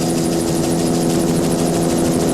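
A steady, loud helicopter drone hovers low over triathlon cyclists at the 1985 All Ireland Triathlon Championships, rotor chop pulsing evenly without a break.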